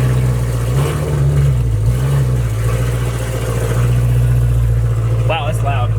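A V12-swapped Toyota Supra engine running with a loud, steady low drone and a couple of rising revs early on, voices talking faintly over it.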